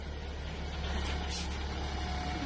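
A bus idles close by, its low engine rumble running steadily throughout with a faint high whine and a brief hissing burst near the middle, as it is about to pull forward over items placed beneath it.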